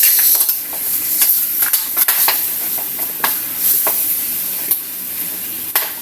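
Boiled pork feet sauté in a pan: a bright, constant sizzling hiss broken by the repeated scrape and clatter of stirring, close and loud with no talk.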